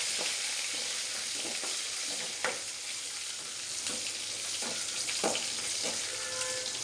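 Seeds and curry leaves sizzling in hot oil for a tempering in a pan, a steady close frying hiss with occasional crackles and pops.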